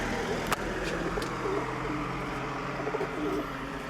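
A pigeon coos softly a few times at moderate distance over steady outdoor background noise and faint traffic, with no talking.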